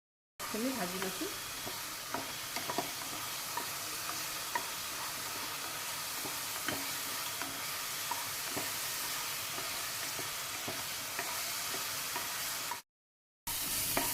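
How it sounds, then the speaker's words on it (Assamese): Onions sizzle steadily in a hot pan while being stirred, with occasional scraping taps under the continuous frying, then a brief silent gap just before the end. "পিঁয়াজখিনিও মই ভালকৈ ভাজি ল'ম"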